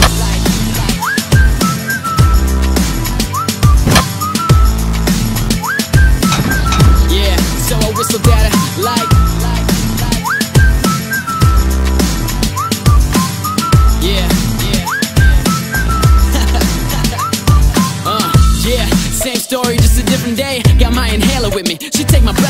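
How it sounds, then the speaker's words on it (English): Melodic whistling carries a tune in a song, repeating short rising phrases over a steady loud beat and music for the whole stretch. "But I didn't know what to say, so I just whistled at her"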